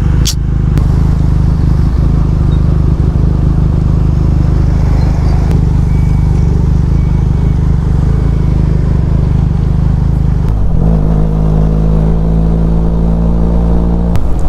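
A motorcycle rides along a road in thick morning fog, its engine droning steadily and loudly close up under wind rush, with a shift in pitch near the end and no talk.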